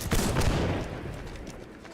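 A volley of massed musket-style gunfire in a line-battle video game: a loud, dense crackle of overlapping shots that peaks at once and then trails off into fading echoes.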